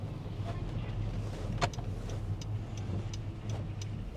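A car is driving along at low level, with a steady engine and road hum and faint ticking clicks from inside the cabin, while a person talks quietly.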